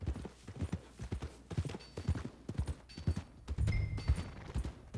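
Horse hooves clip-clopping on ground in Red Dead Redemption 2, a quick irregular run of close hoofbeats with faint background game ambience.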